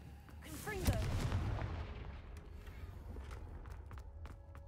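Confringo blasting spell going off in the video game Hogwarts Legacy inside a cave: one loud, booming explosion with a sharp crack, then a long rumbling decay and scattered debris-like clatter.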